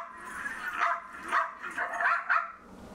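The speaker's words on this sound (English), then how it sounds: "let me play the file of him barking at me." A dog's recorded barks and yips come in about four short bursts, moderately close and with no talk over them.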